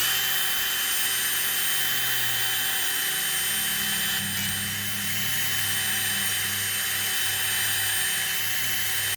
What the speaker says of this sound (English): I want to shine them up a little bit. And I went and got myself a hone, and we're going to do that next.